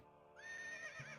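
A horse whinnies in the Lego Battles video game, a single rising, wavering neigh that plays clearly and alone.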